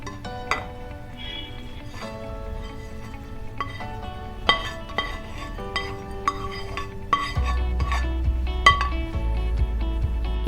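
Cooked egg is moved from a pan into a bowl during breakfast cooking at a stove. Close metal utensils scrape and clink against the cookware in scattered knocks and taps, with a low rumble in the background.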